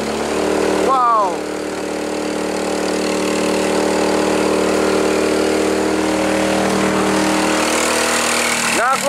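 A motorcycle labouring up a steep stone and concrete road toward Curug Ngebul in Pagelaran, Cianjur, its engine droning loud and steady throughout, with short bursts of voice near the start and end.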